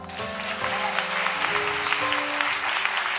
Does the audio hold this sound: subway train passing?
no